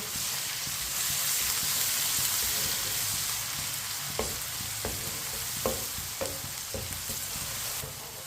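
Onion, garlic and ginger sizzle steadily in a hot pan while a utensil scrapes and stirs with a few soft clicks, close up.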